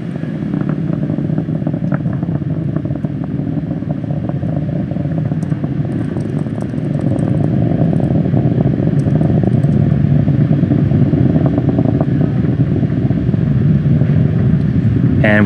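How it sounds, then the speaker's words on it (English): A SpaceX Falcon 9 carrying an upgraded Dragon vehicle climbs toward low Earth orbit, its engines a loud continuous broadband rumble and crackle that swells slightly and holds steady. "Falcon 9 is carrying our upgraded Dragon vehicle to low Earth orbit"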